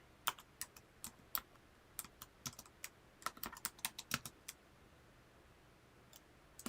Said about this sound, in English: I'm just typing in here.